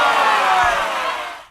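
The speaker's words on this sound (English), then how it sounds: "it's now your turn to vote who won by cheering for them" An audience cheers and whoops at a fight event to vote for the fighter called Murder, a loud burst of crowd noise that fades away over a second and a half.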